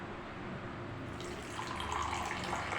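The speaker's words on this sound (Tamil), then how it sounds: "சுடுதண்ணி கலக்கணும் மக்களே" Hot water is poured into a drink sweetened with palm sugar candy, giving a soft, steady trickling and splashing that grows slightly louder and brighter partway through, fairly quiet, with no talking.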